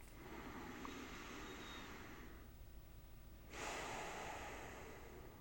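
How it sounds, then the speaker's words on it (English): A slow, deep breath: a long airy inhale, a short pause, then a louder exhale, close and intimate with no talking. "take a nice deep breath with me"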